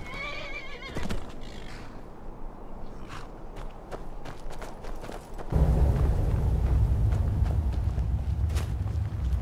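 A horse in the video game Skyrim gives a loud whinny near the start, followed by scattered hoof clops and footsteps, then a dense rumbling game ambience takes over partway through.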